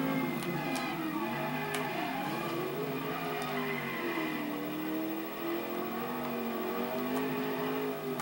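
A car engine in Driver San Francisco hums at steady revs as the car drives, its pitch rising and falling gently with a few faint clicks layered over the continuous drone.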